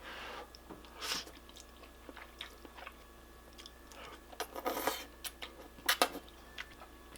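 Someone eats homemade ramen noodles with chopsticks, making irregular close-up bites, chews and small wet crunches. The mouth noises come in scattered bursts over a quiet background.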